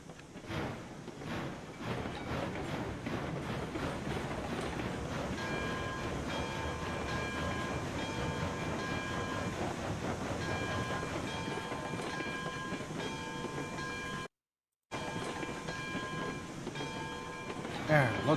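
Steam locomotive in the Railroads Online video game, a steady mechanical rumble with rhythmic clickety-clack and sustained whistle-like tones, running continuously with a brief dropout near the end.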